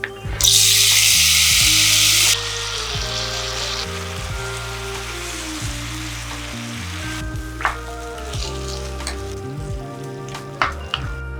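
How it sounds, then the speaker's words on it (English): Tomatoes hit hot tempering oil for a tomato chutney, setting off a loud, bright sizzle for about two seconds that then settles into a quieter, steady frying hiss with occasional soft clicks and stirring taps. "Once started tempering, add tomatoes."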